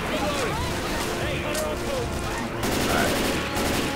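Mounted turret fire in Left 4 Dead 2 rattles as a dense, sustained burst of rapid shots, loud and continuous throughout, blended with game noise and a player's voice.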